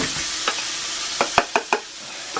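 Butter and garlic fry with a soft, steady sizzle in a cast iron pan, and a utensil stirs through them with several quick scraping clicks up close.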